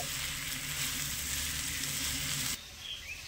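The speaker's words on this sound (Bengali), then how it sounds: "এবারে ঘিয়ের সাথে ভালো করে মিশিয়ে একটু ভেজে নেব।" Sago pearls (sabudana) frying in ghee in a pan over medium-low heat, a steady close sizzle that drops to a quieter crackle near the end, with no talking.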